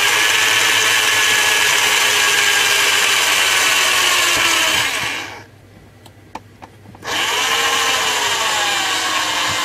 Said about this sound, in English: We might just have enough juice in it, because we're only drilling plastic